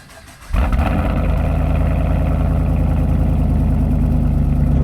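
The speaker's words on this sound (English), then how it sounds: "you guys do now get a cold start" A Pontiac G8 GT engine cranks and fires on a cold start after a moment of quiet, then settles into a loud, steady rumbling idle close by.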